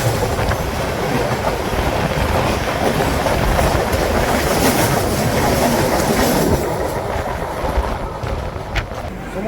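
The Amritsar Mail express, heard from on board, rolls along the rails with a continuous loud rumble and a rhythmic clickety-clack of wheels over joints.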